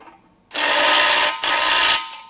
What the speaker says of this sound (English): you can bolt them all together tightly